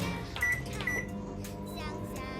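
Microwave oven keypad pressed twice to add another minute while baking a simple cake, two short beeps near the mic over steady room hum and background chatter.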